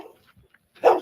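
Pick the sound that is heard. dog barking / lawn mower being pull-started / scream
dog barking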